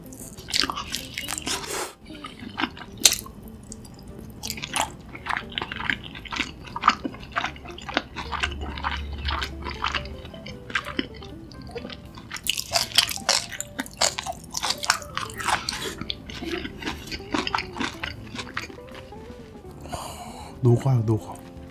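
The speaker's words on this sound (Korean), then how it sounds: "갈릭디피소스 찍어 먹어볼게요." Close crunchy bites and wet chewing of fried chicken dipped in garlic sauce come in irregular bursts over about twenty seconds, quiet between mouthfuls, with no talking.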